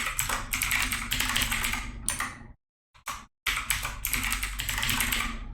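Fast, steady clicking of a computer keyboard as a password is typed, close and clear, broken by a short silent pause before the keystrokes resume.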